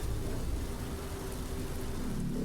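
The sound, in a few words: rain in the video game Vampire Rain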